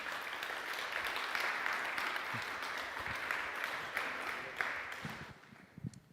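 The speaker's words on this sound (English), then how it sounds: "So let's practice the clapping," Applause from a conference audience at a tech summit, a dense wash of clapping that holds steady and then thins out toward the end, with a few scattered final claps.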